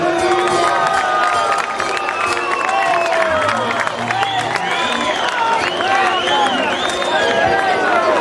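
A dense, loud crowd at a live polka and chamamé festival cheers, shouts and claps without pause, with children's shrieks and whistles rising over the sustained applause.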